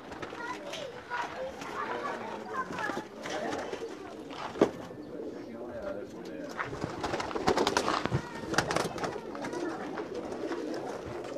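Pigeons, including a red and black bird from a Pakistani pigeon-keeping loft, coo repeatedly at close range amid other bird calls, with people talking over them throughout.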